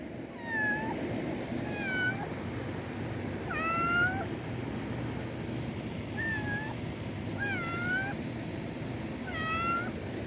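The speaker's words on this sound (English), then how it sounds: "It's just the neighborhood cat." A neighborhood cat meows repeatedly outdoors, about half a dozen rising-and-falling calls spaced a second or two apart, clear and fairly close over a steady background hiss.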